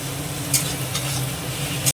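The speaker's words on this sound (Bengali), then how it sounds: "এটা দিয়ে এটাও একটু আমি হালকা করে ভেজে নেব।" Onion and garlic paste sizzles in hot oil for a dhaba-style egg curry, a brief, close, steady frying hiss with a couple of spatula clicks and no voices.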